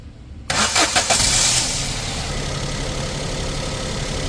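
A Maruti Suzuki S-Presso with a freshly installed O2 sensor cranks over in a short burst and catches, settling into a steady cold idle with a slight misfire running through it, close and fairly loud.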